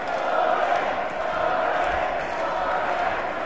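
A boxing crowd in Hull roars steadily behind Sonny Pollard during his fight with Danny Brown, a broad sustained cheer filling the hall at a fairly even level throughout.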